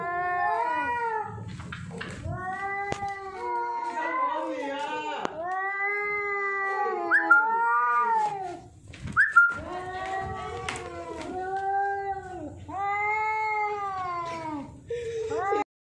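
Two cats, a house cat and a neighbor's cat, caterwaul at each other in long, wavering, rising and falling yowls, loud and close, with brief breaks and sharp hisses in between.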